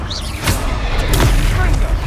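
A Confringo fire spell bursts in the video game Hogwarts Legacy during a troll fight, a loud booming blast with rumbling low end and sharp flare-ups, a shouted incantation mixed in.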